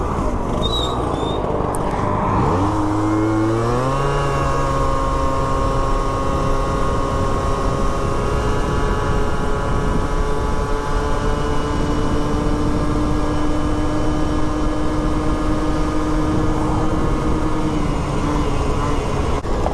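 A Stunt 70 kit scooter pulls away from a standing start on a road, its two-stroke engine note climbing steadily in pitch and staying loud and close throughout, with no voices.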